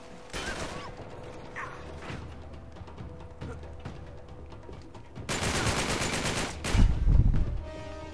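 Mounted machine gun firing in Uncharted 3, rapid rattling bursts with a long sustained loud stretch and a heavy low thump near the end, amid game background noise.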